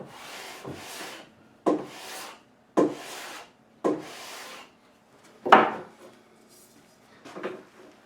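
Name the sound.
hand sanding wood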